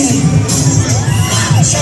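Festival crowd at the Sinulog Festival in Pasig City roaring and shouting in a short, loud, unbroken burst of cheering.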